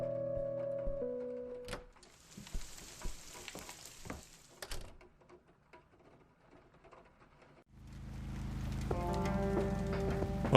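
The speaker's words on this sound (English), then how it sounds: "at least now the scenery's changed to rain" Video game rain from Kathy Rain: steady hiss with scattered droplet patters, broken by a quieter stretch with clanks and footsteps, then a dense rain wash returns alongside a low hum.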